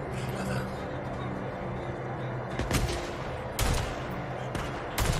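Rifle shots from the video game Days Gone crack out as a few sharp, separate reports over a steady bed of game ambience, with a burst near the middle and another toward the end.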